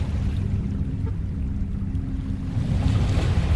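Water in the Dagon video game sloshes and washes steadily like low surf on a dark channel, a constant close rumble with faint wind-like hiss throughout.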